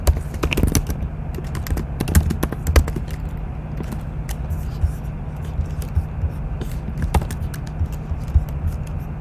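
Fast irregular clicking of computer keyboard keys, close and fairly loud, in bursts with brief pauses over a low steady hum.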